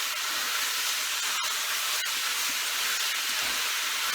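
Scraps of meat trimmed from the fat brown in a hot pot for scouse, giving off a steady close sizzling hiss with a couple of short sharp crackles.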